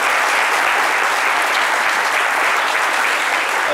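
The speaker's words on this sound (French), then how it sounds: "c'est des applaudissements pour soutenir Soro Solange et soutenir sa famille" A studio audience applauds steadily in support of Soro Solange, an even, dense wash of many hands clapping at constant loudness throughout.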